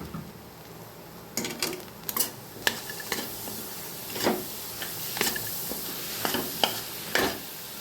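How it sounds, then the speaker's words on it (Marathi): Jaggery being stirred into cooked lentil filling in a pan over a low flame, with scattered spoon scrapes and taps against the metal over a faint background hiss. "आणि लगेच आता यामध्ये हा गूळ टाकून घेऊ आणि याला चांगलं मिक्स करून घेऊ"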